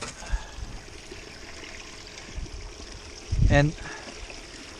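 Water runs through a gold sluice on Slaty Creek at Murrays Corner, fed by one pump flat out with about 4.5 degrees of angle; a steady trickling wash sits under a voice, with one louder gush.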